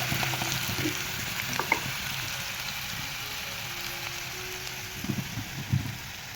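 Onion frying in a pan for a besan methi dish, a steady soft sizzle with faint crackle and a few light stirring knocks, no talk.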